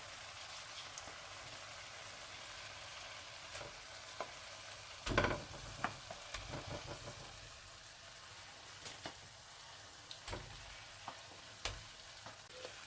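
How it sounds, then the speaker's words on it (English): Fried eggs sizzle in an onion and tomato gravy, a soft continuous frying hiss broken by scattered sharp pops and spoon-like clinks, close and fairly quiet. "Now I'm adding these fried eggs."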